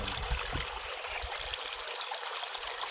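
Steady flowing water, a continuous close trickling rush of stream-like noise with a few low gurgles at the start, no voices.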